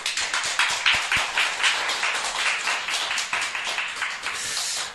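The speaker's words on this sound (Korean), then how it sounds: "하나님 앞에 영광의 박수" A church congregation clapping together during a Friday prayer meeting, a dense continuous patter of many hands with rhythmic pulses, loud and close, with no talk over it.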